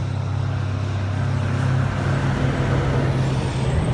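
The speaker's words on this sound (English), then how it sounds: "You can hear the traffic in back of me." Road traffic on US 1 in Key Largo, Florida rumbles steadily in the background, a continuous low roar of passing vehicles with heavier truck-like swells, and no voices.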